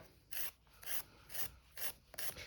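Five rhythmic rasping strokes of a nail file across a fingernail, evenly spaced and fairly quiet, with short pauses between each scrape.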